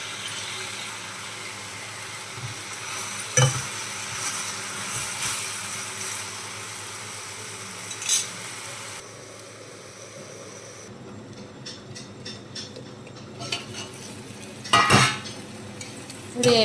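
Cashews frying in a pan for butter chicken curry, a steady low sizzle with occasional sharp spoon clinks and scrapes against the pan.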